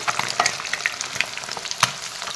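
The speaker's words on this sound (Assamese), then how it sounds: "মাছকেইটি ওলটাই দিলোঁ" Small fish frying in a hot pan as they are flipped over, a loud continuous crackling sizzle with sharp pops and a clack as the pieces turn.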